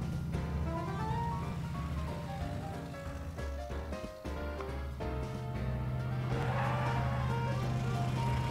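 An old, big car idling in the Back to the Future video game, a steady low engine drone running throughout, with a brief dip partway and some layered game music over it, and no voices.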